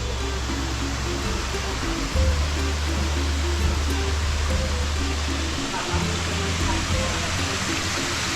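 Water pours steadily at a resort pool, a loud constant rushing wash with a low hum running beneath it. Nobody speaks over the flow.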